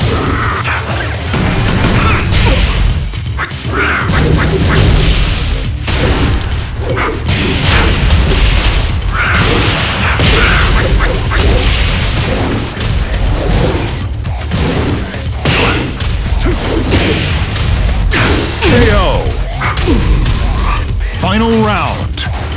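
Tekken fighting game combat with rapid thumping hits, booming impacts and whooshes in dense, loud bursts, under game voice announcements and character shouts.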